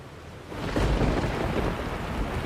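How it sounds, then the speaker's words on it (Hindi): Thunderstorm with a deep rumble of thunder swelling after half a second and rolling on beneath a dense, steady hiss of heavy rain, loud and close. "और फिर अचानक तूफान शुरू हो गया"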